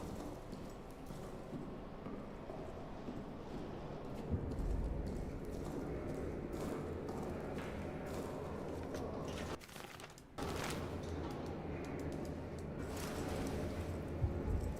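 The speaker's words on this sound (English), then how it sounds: "Loud trouncing footsteps." Heavy, thudding footsteps tramp through a dim bunker in Amnesia: The Bunker, a steady clumping rhythm under rumbling ambient noise, with a brief dropout near the middle before the clatter resumes.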